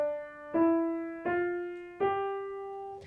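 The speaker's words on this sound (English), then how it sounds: "we're going to play the 5-finger position" A piano plays three clear notes in succession, each struck and left to ring, as part of a major five-finger pattern in the right hand, soft and alone.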